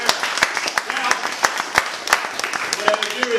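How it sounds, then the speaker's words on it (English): Audience applause after an exercise therapy demonstration, sharp claps ringing out over roughly three seconds with speech running over them. "Big round of applause there."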